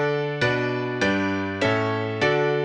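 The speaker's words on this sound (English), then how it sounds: "and tell you that's a major scale progression." A major-scale chord progression on a musical instrument, four sustained chords struck at an even pace about every half second, each ringing until the next, close and clear with no voices.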